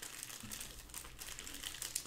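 Football trading cards from a hobby box are shuffled close by, giving a steady papery crinkling and rustling for about two seconds, fairly quiet.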